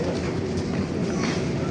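A KRL commuter train arrives at a station in Indonesia, its steady rumble and rattle of wheels on rails loud and close, a broad continuous roar.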